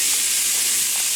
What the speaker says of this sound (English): And then I'm going to throw my tomatoes on. Listen to that sizzle.